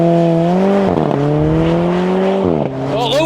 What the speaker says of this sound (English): to put the car in launch control, you've just got to be an automatic